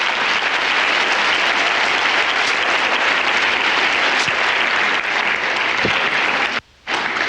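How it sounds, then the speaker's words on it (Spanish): A congregation at a church service breaks into loud, sustained applause, dense clapping filling the hall with a few sharper claps, briefly cutting out near the end. "Denle un aplauso al Señor, pues."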